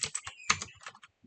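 Quick keystrokes clatter on a computer keyboard while a network routing command is typed, a close, irregular run of sharp taps with short pauses.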